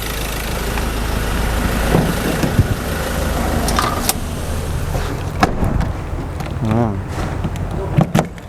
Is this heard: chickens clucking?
no